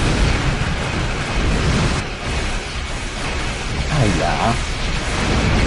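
Heavy explosions from torpedo hits in a video game boom across a dense, loud rumble lasting several seconds, with a brief voice speaking over the din.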